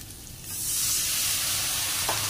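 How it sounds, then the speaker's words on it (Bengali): Cumin powder, coriander powder and a little salt are stir-fried in a hot pan, with a soft sizzle rising into a steady bright hiss that carries through to the end and one brief scrape of stirring near the close. "দিয়ে ভালোভাবে কষিয়ে নেব মশলাটাকে"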